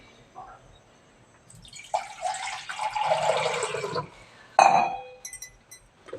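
Water is poured into gooseberry (amla) juice, a close two-second gush that fades out, followed by a bright glassy clink and a few small splashes.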